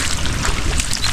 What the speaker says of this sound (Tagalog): Bilis tumaib ng tubig.